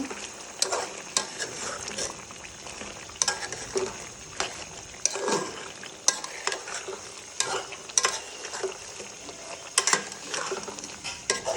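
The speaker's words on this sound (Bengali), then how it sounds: "এখন এটা আমি একটু ভালো করে মিক্স করে দিব।" Duck meat being stirred with ground cardamom, cinnamon, cloves, pepper and caraway in a hot pan, with steady sizzling broken by repeated scraping strokes of a spoon, close and fairly loud with no voices.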